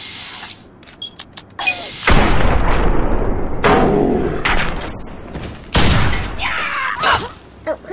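Gunfire in the video game Fallout 3: scattered sharp shots and heavy booming blasts with rumbling tails, irregular and loud, mixed with game clatter and no clear talk.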